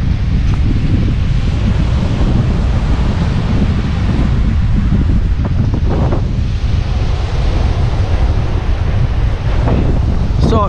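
Strong sea breeze buffets the microphone on open water at a Jamaican fishing spot, a loud continuous roar of wind with waves and surf washing beneath it, no voices over it.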